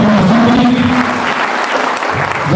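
Loud, steady applause fills a memorial service for a bishop's mother, a dense crowd clapping continuously with a low tone from a voice or sound system briefly beneath it.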